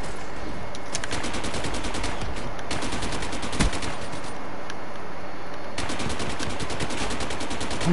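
Automatic AK rifle fire in a video game, with heavy recoil, rattles out in rapid, continuous bursts. The shots are loud and close, with only brief pauses between strings and no talking.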